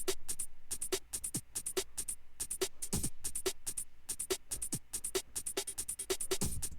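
Lofi chopped breakbeat loop of kick, snare and crisp hi-hat hits in a steady swung rhythm, fairly quiet and dry, repeating throughout.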